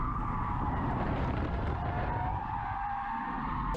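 A Type S Acura RSX with too much body roll skids off the road, a sustained loud tire squeal and scrub over engine noise that holds for several seconds, then cuts off abruptly at the end.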